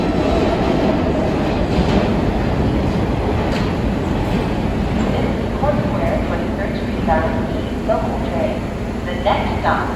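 E express subway train running through the New York City subway in Queens, with a steady loud rumble of wheels on rail, faint clicks and brief high squeals, and muffled voices mixed in.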